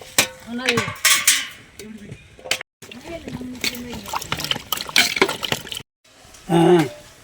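Dishes and pots are washed with running water in a home kitchen: intermittent clinks, clatter and splashing, near and moderately loud, under steady conversation in Tamil.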